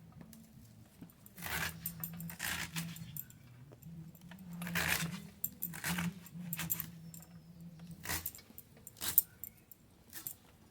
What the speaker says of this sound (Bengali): একইভাবে বাকি শাকগুলো কেটে নেব।